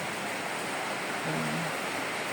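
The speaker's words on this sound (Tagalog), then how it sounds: "Ganito lang ang ulan. Normal na ulan lang." Steady broadband hiss of typhoon rain falling in Bulacan, even and continuous throughout, with a brief low hum rising near the end.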